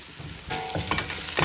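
Ingredients sauté in a hot pan, a close, steady sizzle broken by a few stirring scrapes, brief and without talk.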